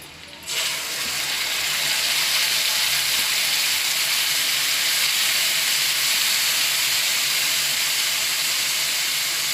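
Loud, steady sizzle as masala hits onions frying in hot oil for a spicy vam fish roe curry, a sharp onset followed by a continuous bright hiss that holds without pause.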